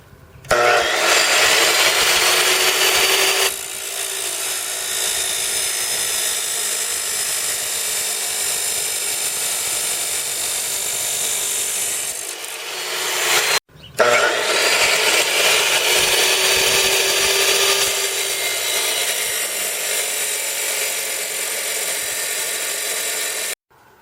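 A power tool grinds through a cheap steel 14mm combination wrench, cutting off the open end, in two long loud continuous runs separated by a brief pause, the whine steady and harsh throughout.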